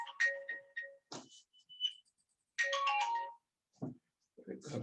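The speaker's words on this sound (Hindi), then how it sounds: "घर से फोन आ रहा है।" An incoming phone call plays a bright melodic ringtone in short repeating phrases with gaps between them, close and clear, while someone speaks briefly in between.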